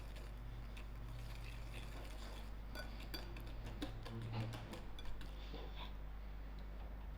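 A whisk beats egg yolk with vanilla extract in a bowl, producing faint, irregular metallic clinks and taps that cluster in the middle, over a steady low background hum with no talking.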